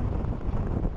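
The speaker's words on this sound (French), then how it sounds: "le vent commence à souffler très fort à mon avis" Strong wind gusting outdoors during a group hike with dogs near Claix, a dense rumbling buffet across the microphone lasting about a second, with no voices.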